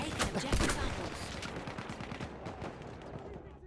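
A burst of gunfire from Battlefield 1, including a hip-fired pistol shot, sharp and close at the start, then trailing off into further shots and game noise.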